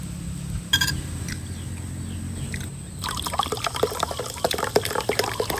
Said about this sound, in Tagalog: maglalagay lang ako dito ng tubig